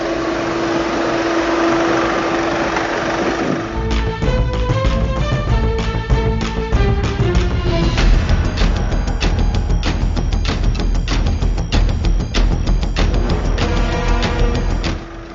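Engines of a broken-down tractor loaded with soil and a Taurus lorry pushing it run steadily at a clay-pit site, a continuous loud rumble with rhythmic mechanical knocking throughout.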